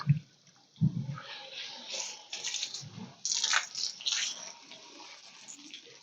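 Water splashes and sprinkles in irregular bursts, with soft hissing sprays and a few low thuds, fairly close and without any talking.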